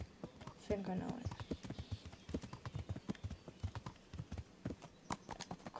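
Horse hooves clip-clop in a steady rhythmic gait while riding in the video game Kingdom Come: Deliverance, with a brief neigh early on and people talking over the hoofbeats.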